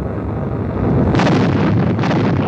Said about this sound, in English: We were just hit by 2 torpedoes.